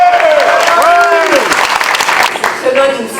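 At a Paris municipal election campaign meeting, the audience breaks into loud, close applause for PSG, the clapping mixed with shouting voices and cheers that thin out near the end.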